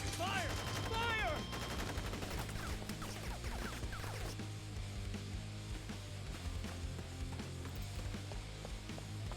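Rapid bursts of gunfire crackle through a combat scene in Crisis Core: Final Fantasy VII Reunion, layered over a steady music bed and continuing for several seconds without speech.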